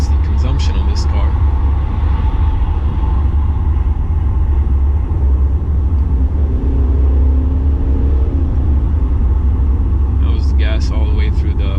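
A 2018 Mercedes E220d AMG coupe's diesel engine pulls hard at full throttle in Sport Plus mode, a loud, steady low rumble with road and wind noise from inside the cabin.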